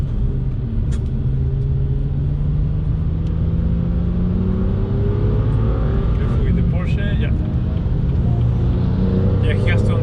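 A racing car engine in a racing game drones steadily and loud, its pitch gradually climbing as it accelerates, with a voice talking over the engine note.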